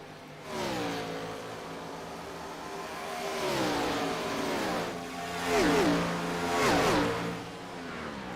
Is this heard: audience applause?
no